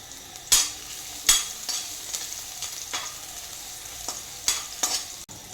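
Finely chopped garlic cloves fry in hot oil in a kadai, giving a soft steady sizzle broken by sharp scraping stirs of a spoon at irregular intervals, with no talking.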